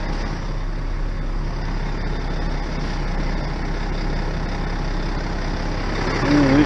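A truck shunting slowly to line its trailer up straight, a steady low engine rumble at close range holding even throughout and swelling slightly at the very end.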